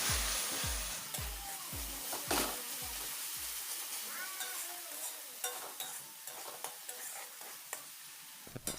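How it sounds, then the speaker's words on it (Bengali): Spice masala being sautéed in a pan for a kochur shak dish, opening with a run of regular knocking taps, then a soft sizzle with scattered scrapes and clinks of stirring, fairly quiet. "এবার মশলাটি ভালোভাবে কষিয়ে নিতে হবে।"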